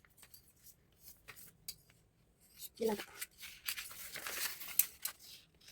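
Scissors cutting through a paper blouse pattern make soft crisp snips and rustling paper crinkles, fairly close and quiet, with a voice talking throughout.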